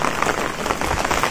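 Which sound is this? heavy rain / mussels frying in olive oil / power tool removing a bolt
heavy rain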